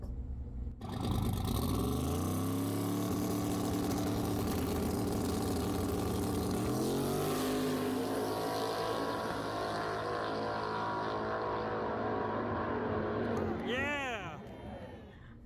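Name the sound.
drag race car running at Lubbock Dragway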